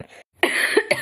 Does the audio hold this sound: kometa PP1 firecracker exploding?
no